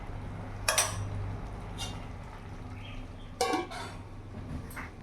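A lid set onto a cooking pot of spinach ghonto with fried brinjal and lentil dumplings, giving two sharp metallic clinks a few seconds apart over a quiet kitchen hum, with no voices.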